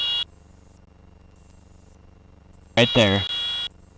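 A light aircraft's stall warning sounds in repeated high beeps during a power-on stall practice, steady tones with gaps, while an instructor talks briefly over cockpit noise.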